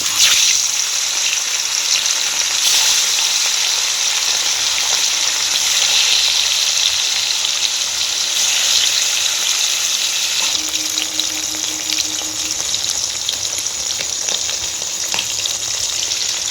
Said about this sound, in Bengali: ওই তেলের মধ্যেই আমি মাছগুলো ভেজে নেব।